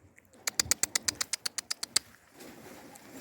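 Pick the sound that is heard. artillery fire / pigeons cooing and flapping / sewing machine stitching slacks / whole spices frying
pigeons cooing and flapping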